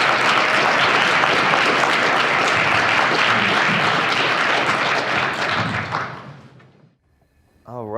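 A large conference audience at a closing keynote applauds loudly and steadily as a speaker is welcomed, a dense wash of clapping that fades out over the final seconds into near silence.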